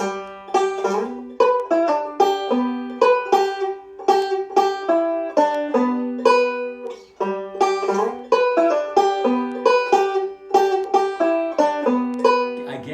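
A banjo picks a Scruggs-style up-the-neck backup lick in fast, bright rolls of plucked notes, steady and close, played alone for several bars.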